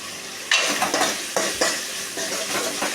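Tomato and onion with salt sauté in a hot pan, with a steady sizzle broken by a few close, sharp scrapes and stirring strokes of a spoon against the metal.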